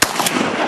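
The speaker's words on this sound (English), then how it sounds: "Nice shot." A single loud shotgun blast fired at waterfowl on a Minnesota duck hunt opener, sharp onset followed by a long rolling outdoor echo that fills the short moment.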